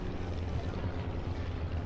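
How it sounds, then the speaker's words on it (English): A light aircraft powered by a converted VW engine flies at the Midlands Air Festival, its steady buzzing drone continuous and fairly loud throughout. "aircraft here at Midlands that will be flying with converted VW engines"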